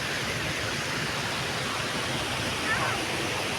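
Water rushes steadily through a tank refilled after heavy rain, a continuous broadband roar like a small waterfall or stream, close and even throughout with no pauses.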